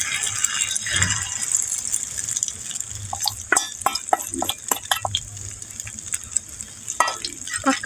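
Masala omelette batter fries in lightly heated oil, giving a steady close sizzle with scattered small crackles and pops throughout and no talk.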